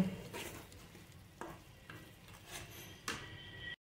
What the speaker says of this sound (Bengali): এবার এর উপরে দিয়ে দেবো খয়াটা, এটা দিয়ে বেশ করে নেড়ে নেব।